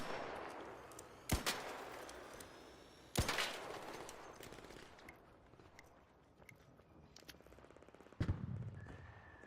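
Distant gunfire in ARC Raiders, faint scattered shots and rapid rattling bursts in the background, with a few sharper close cracks standing out over a quiet ambience.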